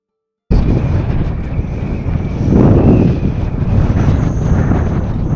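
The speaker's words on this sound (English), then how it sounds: "It's windy today, really windy" Strong wind buffets the microphone in loud, rumbling gusts, swelling and easing continuously after a brief silent start.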